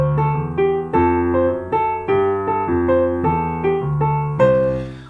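A keyboard plays a minim triplet rhythm pattern as a steady, moderately loud sequence of clean sustained notes and chords, about a dozen evenly spaced attacks, with the final chord ringing out alone.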